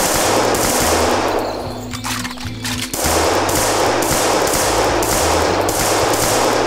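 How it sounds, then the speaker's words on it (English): MAT 49 submachine gun in the VietDoom mod for Doom, firing in rapid sustained automatic bursts, loud and close, with a brief pause midway before the chatter resumes. "MAT 49 submachine gun"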